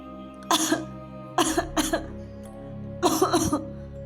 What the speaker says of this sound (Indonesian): Suara batuk itu masih terdengar.